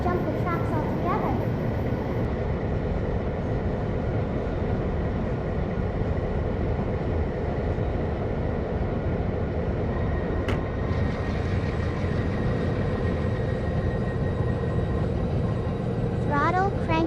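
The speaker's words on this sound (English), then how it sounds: "The train leaps ahead with a mighty burst of speed, engine roaring and pistons pumping." Train engine running on the tracks, a continuous loud rumbling roar with rattling wagon noise that stays steady throughout, with faint voice-like traces near the end.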